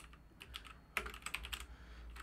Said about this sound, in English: So if I'm typing along